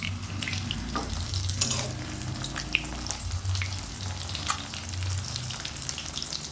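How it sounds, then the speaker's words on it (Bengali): Pabda fish fries in a pan, giving a close, steady sizzle scattered with bright crackles and spits that rise and fall over several seconds, with no voices. "পাবদা মাছটা ভাজা হয়ে গেছে"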